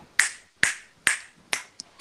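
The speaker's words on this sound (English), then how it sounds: "I was just snapping my fingers." Five crisp finger snaps ring out close and loud at an even, unhurried pace, the last one softer, with near silence between them.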